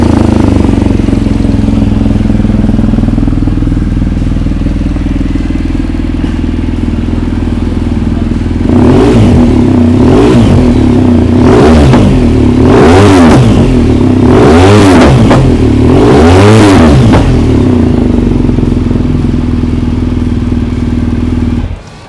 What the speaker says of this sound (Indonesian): coba kita dengar suara Akrapovic full system di BMW GS K50